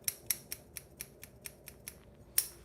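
Thinning shears snip through hair during a self-cut textured crew cut, about a dozen crisp close snips in a steady rhythm, with one sharper cut near the end and no voices.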